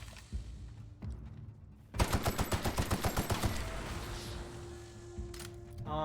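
Shot cannon weapon firing in The Outer Worlds video game, a rapid burst of about a dozen sharp booming shots in quick rhythm, loud and close, followed by a fading low rumble and hum.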